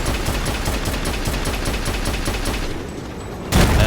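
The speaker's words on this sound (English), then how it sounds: "Is that a cannon?" A cannon fires in the video game Lost Planet 2 amid a steady rhythmic rumble of heavy gunfire and engine noise, ending in a sudden loud blast.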